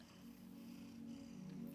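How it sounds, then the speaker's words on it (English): An orange cat purrs in a soft, continuous low rumble, close and quiet, alone without any talking. "You can hear him purring."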